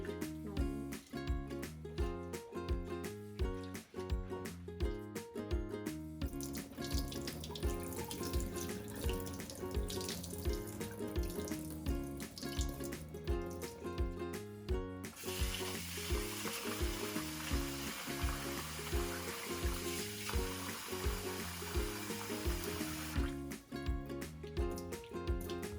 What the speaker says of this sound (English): it's very important to wash rice and lentils for 3 to 4 times to make sure that it's totally clean